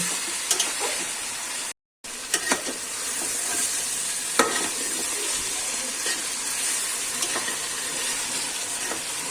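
Chicken pieces with split green chilies stir-fry in a hot pot for pulao, with a constant sizzle broken by repeated scraping strokes of a stirring spoon and one brief dropout.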